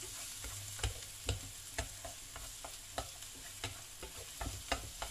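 Garlic and onions sizzling in a pan while a spatula stirs them, with a soft steady fry broken by regular scraping knocks, quiet and close with no talk.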